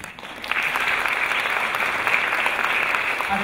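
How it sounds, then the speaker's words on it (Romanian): Steady applause from a crowd at a journalism awards gala honouring the year's ten journalists, dense and continuous throughout, starting slightly softer and swelling within the first half second, with no voices over it. "Aceste aplauze se datorează nouă Centrului Jurnalism pentru Independent"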